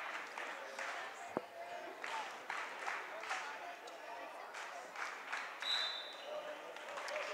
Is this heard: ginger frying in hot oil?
no